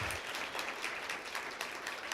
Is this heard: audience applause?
yes